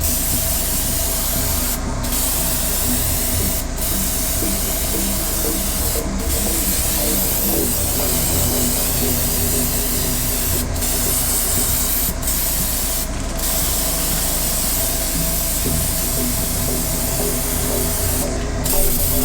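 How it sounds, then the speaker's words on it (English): Continuous loud hiss of spray paint applying blood-red colour to a Halloween Kills latex mask, steady and close with a few brief breaks in the spraying. "but I don't want to spray it too much where it starts dripping"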